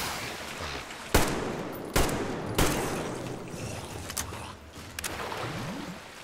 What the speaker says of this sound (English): Panic, panic shooting.